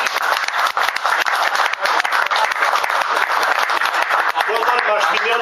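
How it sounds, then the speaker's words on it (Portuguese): A crowd at a reunion gathering of metalworkers gives a sustained round of applause, dense clapping from many hands that continues steadily throughout. "Eu pedia uma salva de palmas para o Pimenta."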